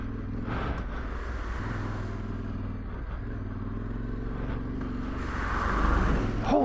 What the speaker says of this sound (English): just as I speak of traffic, traffic arrives